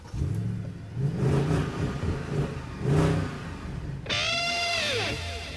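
A 2009 Mercedes C63 AMG V8 revs loudly up close, with repeated throttle blips and surging engine roar, finishing in a sustained high rev with rising harmonic whine.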